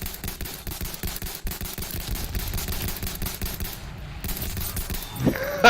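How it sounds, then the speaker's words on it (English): Rapid gunfire from the video game Battlefield 1, a dense, continuous clatter of shots throughout, loud and close, ending with a sharper burst. "It's spray and pray, but you got one bullet shot at a time."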